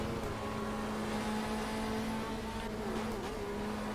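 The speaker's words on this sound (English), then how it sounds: "you can listen to the engine of the Mondeo" A Ford Mondeo touring car in the GTR 2 racing game, from a 1993 BTCC round supporting the Silverstone GP, holds a steady, droning engine note at constant revs throughout, with no talk over it.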